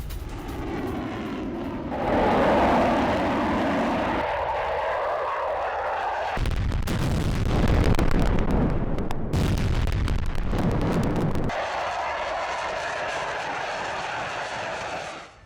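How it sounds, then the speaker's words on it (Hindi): A loud continuous roar with deep rumbling booms from FAB-500 aerial bombs exploding in Ukraine, swelling and shifting in sections, like heavy explosions mixed with jet engine noise. "रूस ने यूक्रेन में फैब 500 बॉम्ब गिराए हैं।"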